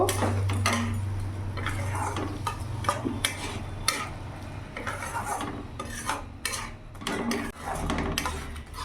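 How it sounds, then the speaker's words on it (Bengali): A spoonful of ginger, garlic and chilli paste is stirred and sautéed in a pan for a cauliflower kalia, with repeated scraping strokes over a low sizzle at moderate volume, continuing steadily without speech. "কিছুক্ষণ কষিয়ে নেব, যতক্ষণ না মশলার থেকে তেল ছেড়ে দিচ্ছে ততক্ষণ ভালো করে কষিয়ে নেব।"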